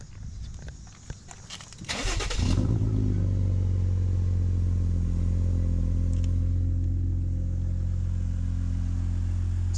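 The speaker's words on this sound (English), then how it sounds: "For literally just being a muffler delete, it sounds really, really good." A Jeep Wrangler Rubicon with a Dynomax muffler-delete exhaust cold-starts after some clatter and settles into a loud, steady, deep idle rumble, close by and continuous to the end.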